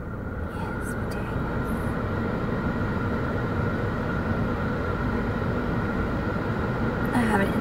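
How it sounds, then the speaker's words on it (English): A car's air conditioning blows on a hot day, a steady close-up rush of airflow that holds at one level for the whole stretch. "So I gotta put the air conditioning on for a second."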